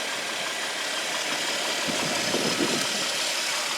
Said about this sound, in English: this engine. It's a V6, so you have plenty of power. It's a twin cam motor.